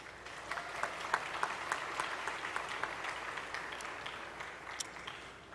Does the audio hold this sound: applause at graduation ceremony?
yes